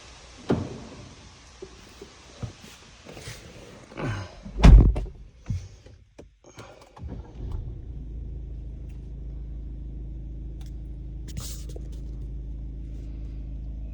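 A Peugeot 3008 Allure's door is opened with a solid thunk and mechanical clatter around the five-second mark, followed by a steady low hum from the car's electronics, with no talking.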